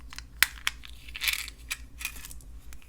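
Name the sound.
faceted glass beads being put on a rod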